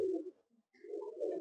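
A flying pigeon coos in short low bursts, one brief phrase, a pause, then a longer rolling coo, close and fairly quiet.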